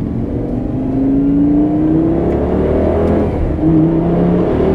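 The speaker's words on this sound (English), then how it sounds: "I'll give you upshifts and I'll give you downshifts in sport mode." A Lamborghini Gallardo with E-gear transmission in sport mode revs close and loud, its engine note climbing steadily, then dropping sharply at a gearshift before pulling again.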